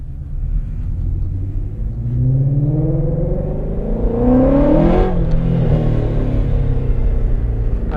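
A 2017 Shelby GT350 V8 revs hard while spinning donuts on a track, its engine note rising and sweeping in pitch over a steady low rumble, loud and close with no talk.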